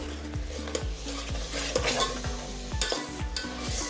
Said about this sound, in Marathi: हा मसाला छान असा त्याला परतून घ्यायचा आहे आपल्याला.